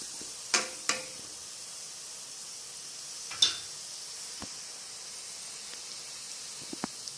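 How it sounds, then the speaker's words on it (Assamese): Onion pieces frying and being stirred over low heat for a fish dish with mustard, ridge gourd and tomato, giving a soft steady sizzle with a few sharp scraping stirs and taps throughout. "5-6 মিনিট অকণমান কম জুইত লৰাই ভাজিলেই হ'ল"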